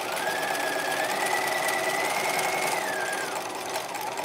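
A sewing machine runs in one continuous, steady hum with a rising and falling whine while stitching the bodice of a 1950s Lamour halter dress, close and unbroken.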